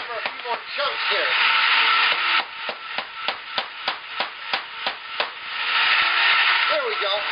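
Ice chunks are hammered for homemade prune ice cream, about a dozen sharp, evenly spaced blows in a steady run, set against a continuous loud machine-like hiss with voices talking at either end.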